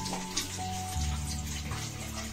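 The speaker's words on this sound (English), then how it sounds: "rinse with warm water or cold water" Tap water runs steadily from a faucet for rinsing the face during a homemade facial treatment, a continuous close splashing hiss with no talking.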